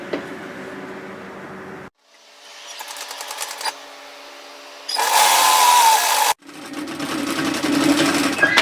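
A sewing machine stitches a seam on dress fabric, running in several loud bursts separated by short pauses, its fast mechanical whir close by and alone.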